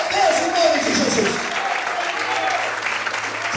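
Church congregation claps together in a sustained burst of applause, loud and close, with a voice speaking over it at the start.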